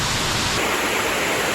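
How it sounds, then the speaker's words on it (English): Indoor waterfalls at the Gaylord Opryland resort in Nashville, heard as a steady, broad rushing wash of falling water that fills the space evenly, with no voices over it. "I'm just looking at the waterfalls down below."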